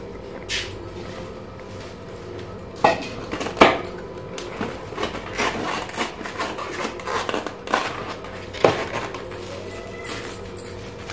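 Dishes and utensils clink and scrape while raita is packed into a takeaway container beside pulao, a busy run of small knocks and taps close by with no talk.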